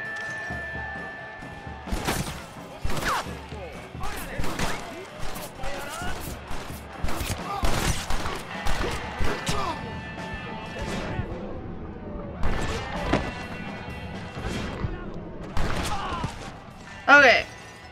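Gunfire in the Western video game Red Dead Redemption: a rapid, irregular run of sharp shots and crashing impacts over about eighteen seconds, mixed with faint voices and game sounds.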